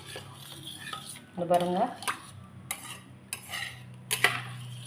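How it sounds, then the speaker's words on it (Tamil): A spoon stirs crushed garlic and milk together in a pot, giving soft scraping and clinking strokes with a few louder knocks against the vessel, close by, while a voice speaks briefly. "இந்த பால் இதில் சேர்த்துருவோம். சேர்த்துட்டு நல்லா கலக்கி விட்டுருவோம்."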